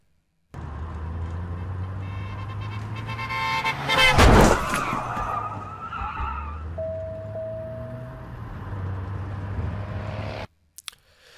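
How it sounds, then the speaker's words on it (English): Rattling, bumpy car suspension sounds from the audio-based driving game Blind Drive, layered over a steady engine drone with a loud burst midway and a brief tonal beep later, then abrupt cutoff. "increasing in rattling and suspension car sounds. This is how this indication sounds like."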